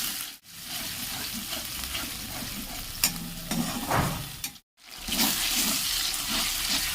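Ginger and green chilli spice paste frying and being stirred in hot oil in a pan, a steady close sizzle with scraping stirs throughout and brief dips where the sizzle cuts out.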